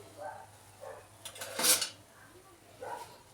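Puffed rice (mandakki) tossed and stirred in oil in a pan, giving scattered dry scraping and clinking sounds with one louder rustling burst midway, fairly close and moderately quiet.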